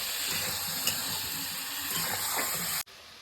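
A ground paste of ginger, garlic, onion and cumin fries for an egg curry with a soft, even sizzle that cuts off abruptly near the end.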